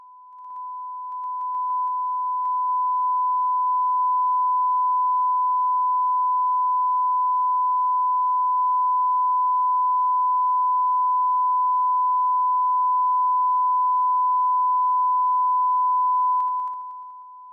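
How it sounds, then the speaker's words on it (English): A steady, pure sine-wave test tone from a Lynx Hilo generator holds at one constant pitch for about fifteen seconds, fading in at the start and cutting off cleanly at the end. "use a sine wave generator in the Lynx Hilo to do so."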